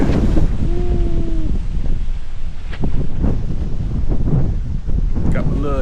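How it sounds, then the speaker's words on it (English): Strong wind gusts across the microphone outdoors beside an old fence-wood privacy wall build, a steady loud roar with buffeting, with someone talking over it and brief rustling. "Ooh, it is, seriously, it is windy."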